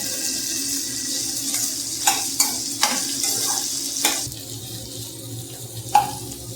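Chopped okra and onion sauté in a hot pan for sambar, a steady sizzle broken by a few sharp scraping stirs near the mic, with nobody talking.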